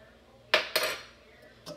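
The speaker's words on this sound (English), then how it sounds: "And just stir it around until it dissolves" Metal spoon scraping and clinking against a pan while stirring beef flavoring into it, a few distinct close scrapes separated by short pauses, with no voices.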